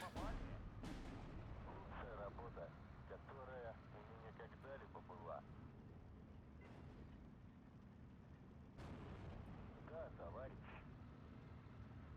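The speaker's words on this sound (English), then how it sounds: "the artillery is just, it's killing me" Distant booms of artillery fire in a tank war video game thud now and then beneath battle noise, while someone talks over them through most of the stretch.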